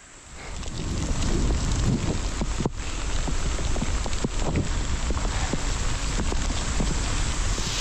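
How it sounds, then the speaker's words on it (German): Steady rain pours down around cyclists riding through Korea during the rainy season, a dense broadband hiss mixed with wind buffeting the microphone. It stays loud and continuous throughout, and no one speaks. "Und jetzt auch noch der Regen"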